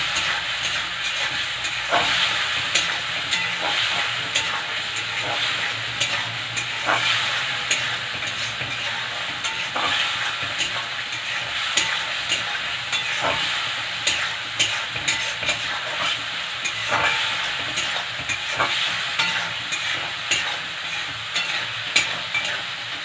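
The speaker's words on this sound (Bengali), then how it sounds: "ভালো মতন কষিয়ে নেব।" Food being sautéed and stirred in a hot uncovered pan, a steady loud sizzle and hiss running throughout with repeated scraping stirs punctuating it, no voices.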